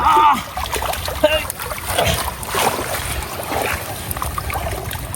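Shrimp net splashing in river water, near splashes and sloshing with trickling water, and brief voices under it.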